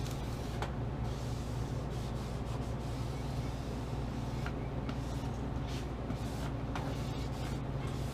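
A windshield banner decal is pressed down by hand with steady, close rubbing and scuffing, a continuous dry friction sound over a low constant hum with a few light clicks.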